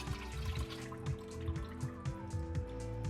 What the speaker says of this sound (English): And then you strain all the water again.